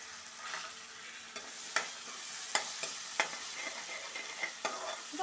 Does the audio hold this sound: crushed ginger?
yes